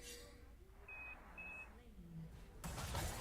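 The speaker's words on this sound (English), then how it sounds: "That's a lot of notifications for Reddit." Two short, clear notification beeps from Reddit sound in quick succession under quiet voices talking, followed by a louder burst of noise.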